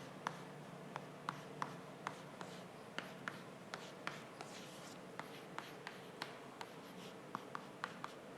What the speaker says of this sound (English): I just need to write this.